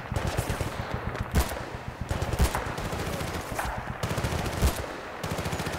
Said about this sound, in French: la mitrailleuse